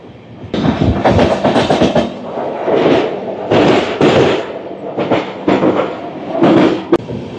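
The Hirakhand Express, train 18447, rumbles loudly as it runs through a hill-country tunnel near Koraput, with rhythmic clickety-clack bursts of wheels on rail and an enclosed roar that swells and fades, plus one sharp click near the end.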